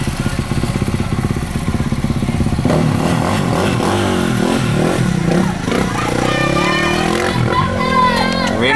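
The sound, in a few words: motorbikes at school cross country race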